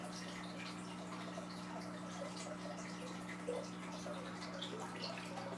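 Cycled aquarium water pours steadily into a 125-gallon fish tank, a faint continuous trickle and splash with a low hum underneath and no voices.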